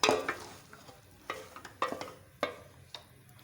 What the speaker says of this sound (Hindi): अब हम लोगों ने यहाँ पर अपने जो सालन की प्याज है ब्राउन होने के लिए रख दी हैं।